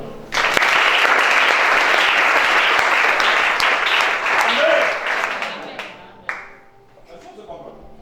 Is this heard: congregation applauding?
yes